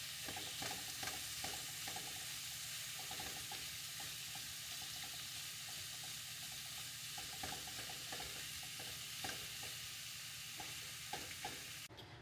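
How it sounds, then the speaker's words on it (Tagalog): Pork pieces frying in a pan for a housewarming meal, a steady broadband sizzle running unbroken for the whole stretch with occasional scraping stirs, close and fairly quiet, no voices. "Unahin ko palang lutuin itong pork bago yung bawang sibuyas."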